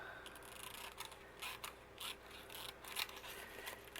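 Scissors snipping through paper for a Christmas craft gift, a series of soft, close, irregular cuts and crisp rustles with no talking.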